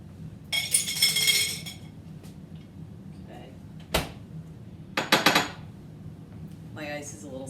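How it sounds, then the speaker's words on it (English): Fresh ice goes into a double old-fashioned cocktail glass, making a few sharp clinks and clatters in separate bursts, with quiet gaps between them, and a voice begins briefly at the end. "So I'm going to get some fresh ice. I'm going to put it in a double old-fashioned size glass."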